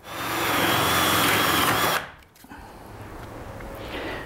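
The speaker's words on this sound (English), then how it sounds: "drill a hole right down in the top of each one" A power drill bores holes into the tops of plastic Dutch buckets in a greenhouse hydroponic setup, a loud steady whine for about two seconds that cuts off abruptly, leaving quieter background noise.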